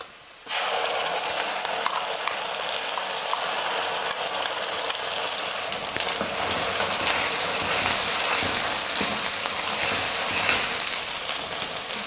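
Ground masala paste sautéing in a hot pan for a kola fish curry, a loud, steady close-up sizzle that starts abruptly and holds unbroken throughout.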